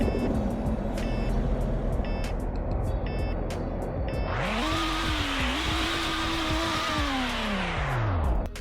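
A V6 car engine with a supercharger in Roblox Greenville idles behind repeated reversing beeps, then revs up sharply, holds a high rising whine and falls back, loud and close with no talk.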